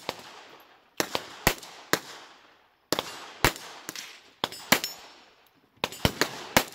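Target shooting outdoors in Springville Canyon: a string of loud, sharp gunshots in uneven clusters, each crack ringing off with a long echoing decay across the canyon, separated by short gaps of quiet.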